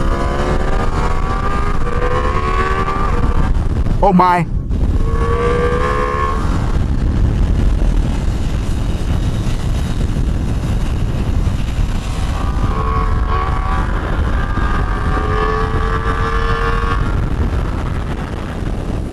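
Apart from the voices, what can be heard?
Ducati Multistrada V4 RS motorcycle engine revving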